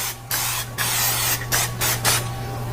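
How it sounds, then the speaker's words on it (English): Non-stick cooking spray sprayed lightly into a cast iron baking dish, heard as several short bursts of close, loud hissing separated by brief pauses, with a steady low hum beneath and no talking. "I've got some non-stick spray"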